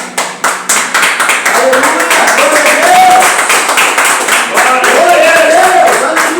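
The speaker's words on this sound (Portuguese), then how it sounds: "Aplauda o Senhor." Church congregation clapping during a farewell service, close, loud, rhythmic handclaps mixed with voices speaking and calling out over them.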